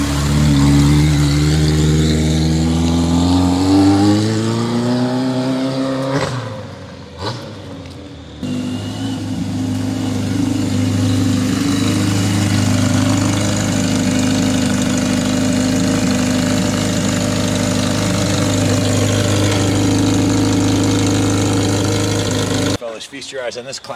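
A 1980 Kawasaki KZ1000 LTD motorcycle engine runs steadily near the microphone, a low, even idle with a brief dip and stumble partway through before settling back, then cutting off at the end.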